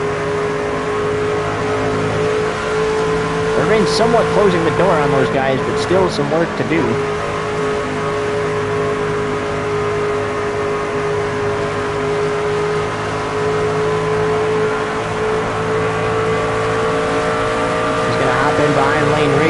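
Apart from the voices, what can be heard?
NASCAR Craftsman Series racing trucks at Pocono Raceway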